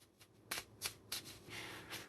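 A deck of tarot reading cards shuffled by hand in several quick riffling bursts, close and quiet, with short gaps between shuffles and no voices.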